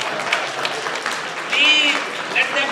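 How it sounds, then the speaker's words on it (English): An audience at a mental health awareness fundraiser claps in steady applause, with cheering voices and a whistle rising through the crowd noise. "More applause, please."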